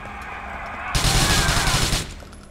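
A loud, sustained burst of automatic gunfire from the video game GTA 4 erupts suddenly and rattles for about a second before cutting off.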